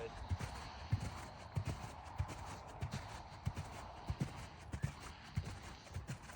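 Hooves of a young dressage horse cantering in a training session, a steady rhythmic clip-clop of repeated thuds close by, with a rider and trainer talking over it.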